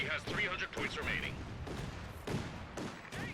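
A Bofors autocannon fires in a ground-attack run during a 4v4 video game match, with several sharp booming shots spaced through the moment under ongoing talk.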